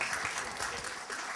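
An audience at a republican debate evening breaks into applause, a moderately quiet, even patter of many hands with a few distinct claps standing out.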